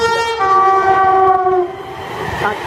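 A Virgin train passes through Milton Keynes Central station, sounding a loud, sustained multi-tone horn that holds for about two seconds before fading under the rumble of the passing train.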